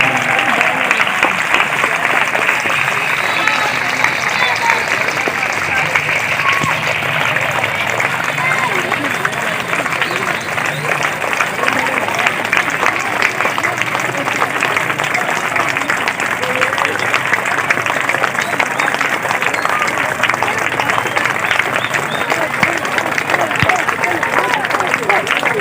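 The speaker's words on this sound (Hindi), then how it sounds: "अपनी तालियां बजाते रहें।" Continuous, dense audience clapping fills the whole stretch at a steady level, at an Independence Day celebration, with children's voices and crowd chatter mixed in.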